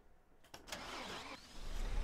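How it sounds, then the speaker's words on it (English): A MAN Lion's Coach bus diesel engine cold-started after glow-plug preheating in the OMSI 2 bus simulator: brief starter cranking, then the engine catches and settles into a building, rumbling idle. "We're going to give each bus a cold start."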